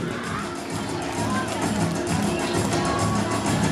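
Applause from a crowd at a school ceremony honouring top-scoring students with mementos: dense, steady clapping with a murmur of voices, filling the whole stretch at an even level.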